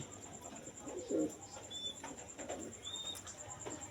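Soft, low coos close by from a pair of koka pigeons sitting on eggs, a couple of muffled calls against a quiet background with faint chirps.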